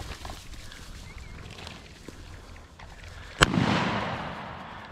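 A shotgun fires once at quail during a field hunt, a sharp, loud crack followed by a rustling, noisy tail, with quiet outdoor background beforehand.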